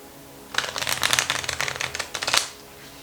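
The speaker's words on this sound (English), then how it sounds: "I'm going to flip some of these cards and shuffle up a little bit." A deck of tarot cards is riffle-shuffled up close, a quick burst of fluttering flicks lasting about two seconds between quiet pauses.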